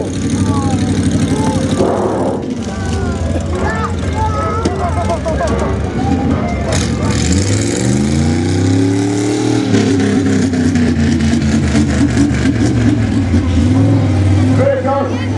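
Truck engine at a steam fair idling with a low steady rumble, then revving in rising and falling sweeps, loud and close, with voices talking over it.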